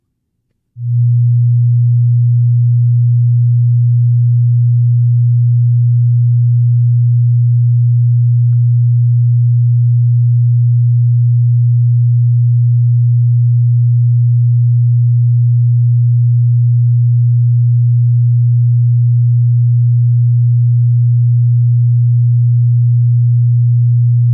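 Steady 120 hertz sine test tone used for checking room acoustics, holding at a single pitch, loud and unbroken for over twenty seconds after a quick start.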